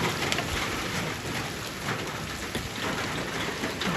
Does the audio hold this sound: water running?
no